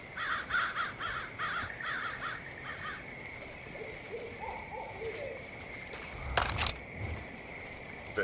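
Crows caw in the video game Far Cry 5, a run of repeated harsh calls in the first seconds that then fade. A brief sharp burst of noise follows over a low ambient bed, with no speech.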